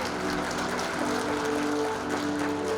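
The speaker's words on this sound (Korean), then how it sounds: "서로가 서로를 힘찬 박수로 환영해 주실까요? 박수 부탁드리겠습니다." Audience applause at an awards ceremony for an electrical industry day event, a dense, even wash of many hands clapping continuously at moderate distance, no voices over it.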